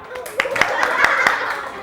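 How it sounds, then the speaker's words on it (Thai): A school audience claps for a student group at a primary science event, scattered sharp claps in an uneven rhythm, nearby and fairly loud, with chatter underneath. "ทุกคนปรบมือให้กับกลุ่มไอสไตล์ครับ"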